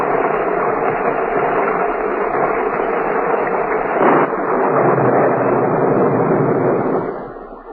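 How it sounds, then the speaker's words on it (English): Radio-drama storm effect: a loud, continuous roar of wind and rain with rumbling thunder, a heavier surge near the middle, holding steady before fading out at the end. "All that night, the storm raged fiercely."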